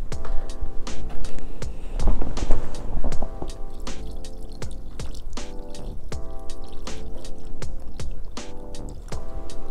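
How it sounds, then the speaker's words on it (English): Warm water is poured into a pan of frozen nitrocellulose outdoors during a snowstorm, with steady splashing and many sharp drips and clinks repeating throughout, loud and close, with no talking. "So first, I'm gonna start by putting some warm water into it."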